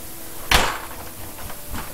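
A door fitted with an RFID keypad security lock being pushed shut, one sharp close thud followed by a couple of faint clicks in a quiet room.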